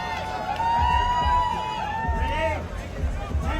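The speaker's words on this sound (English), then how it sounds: "Expect a big noise from the crowd for her." A large crowd at an ice climbing World Cup speed final in Denver roars and whoops in a sustained wave of cheering, loud and close, with a commentator's voice running over it.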